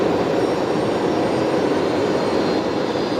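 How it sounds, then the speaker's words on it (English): A Just Go Airlines jet roars steadily as it comes in to land, a loud, continuous engine rumble with broad hiss filling the whole span without letup. "Just Go Airlines dropping in the fibre"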